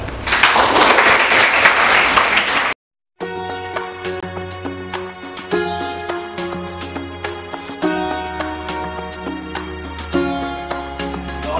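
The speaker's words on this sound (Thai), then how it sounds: "ขอเสียงปรบมือให้เพื่อนๆหน่อยครับ" A room of classmates claps for students who have just finished a presentation, a dense burst of applause lasting under three seconds that cuts off abruptly before music begins.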